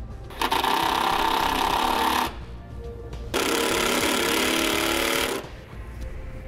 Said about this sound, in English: We're gonna use our self-tapping screws right through both the mounting tabs.